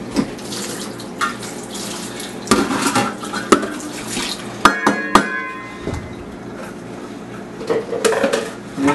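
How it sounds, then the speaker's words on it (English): Pot lid rinsed under a running kitchen tap, with steady water flow and several sharp clanks of metal against the sink, close and loud. "our lid is being used for a chili, so I'm going to have to rinse this."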